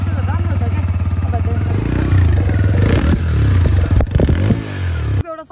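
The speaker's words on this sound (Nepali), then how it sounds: "तपाईहरुलाई म स्टार्ट गरेर पनि देखाउन जादै छु पछि चाहिँ कस्तो मजाले साउन्ड हुन्छ" A TVS Raider 125cc BS6 fuel-injected motorcycle starts and idles with a loud, steady low thump, then revs with clattering mechanical noise before cutting off abruptly near the end.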